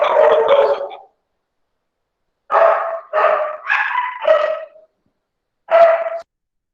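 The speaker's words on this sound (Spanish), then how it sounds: "tengo estos perros alborotados aquí" Several dogs bark excitedly in loud, close bursts: a first volley, a pause, then a rapid run of four overlapping barks and a final single bark.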